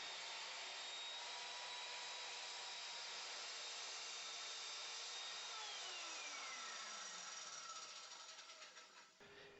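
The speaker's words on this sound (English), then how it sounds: "I first clean up the end with a miter saw." A miter saw trims the end of a wooden board in the workshop, with a loud steady high whine that drops in pitch as the blade slows and stops at the end.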